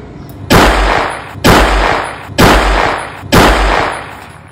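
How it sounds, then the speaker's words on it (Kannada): A licensed gun is fired into the air four times, each loud, sharp report close by and spaced roughly a second apart, with a short fading tail after every shot. "ಮುತ್ಯಾನ್ ಲೈಸೆನ್ಸ್ ಗನ್ ಇವ ತಗೊಂಡು ಗಾಳಿಯಾಗ ಹಿಂಗೆ ಗುಂಡ್ ಹಾರಿಸ್ಲಿಕ್ಕತ್ತಾನ"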